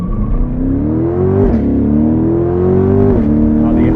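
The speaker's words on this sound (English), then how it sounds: "Oh, the upshift sounds great." A 2021 Chevrolet Corvette Convertible Z51 engine revs up loudly from inside the car, rising steadily in pitch through two distinct upshifts with a brief dip at each gear change, close and continuous, with no talking.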